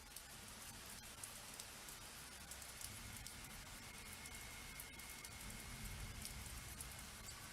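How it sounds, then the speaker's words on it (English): Rain falls steadily on pavement, picked up by a security camera microphone as a constant, even hiss of drops with faint patter throughout and no voices. "We can see rain falling on the pavement for a few moments"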